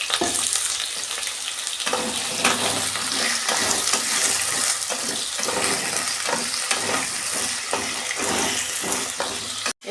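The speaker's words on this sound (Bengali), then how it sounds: "এই যে আলু আর ক্যাপসিকাম একসঙ্গে ভেজে নেব।" Potatoes and capsicum frying together in hot oil in a wok, with cumin, chilli and asafoetida in the pan, giving a steady, loud sizzle with repeated stirring scrapes throughout.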